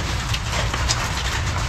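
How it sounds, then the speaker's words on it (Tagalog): Steady rain hisses close by, a constant wash of patter with no pauses. "Sakto rin ang ulan na."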